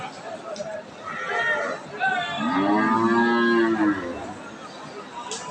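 A pregnant eight-month cow at a cattle market gives one long, drawn-out moo, close and fairly loud, over a steady background of crowd chatter and market noise.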